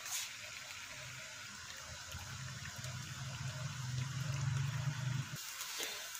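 Boiled cow's colostrum curds are strained, their liquid pouring and splashing steadily through a strainer, building slightly louder toward the end before stopping abruptly, with no talk.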